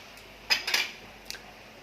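A metal lid set over a frying pan while cooking doi sorshe ilish, mustard hilsa in yogurt: two quick close clinks of metal on metal and a fainter tap a moment later, over quiet room tone.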